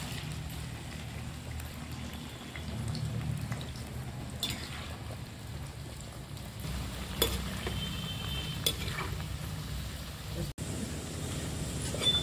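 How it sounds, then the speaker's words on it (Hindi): Pieces of suran (elephant foot yam) frying in oil in a pan, with a steady soft sizzle and occasional scraping stirs and clinks of a spoon, fairly quiet and continuous throughout. "इसको हम चलाते हुए जो कि फ्राई कर रहे हैं अभी"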